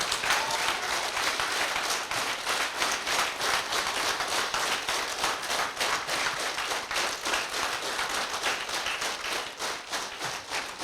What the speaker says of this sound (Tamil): உங்கள் கைத்தட்டல் ஒலி வெளிநாட்டுக்கு இப்பயே கேட்கணும்.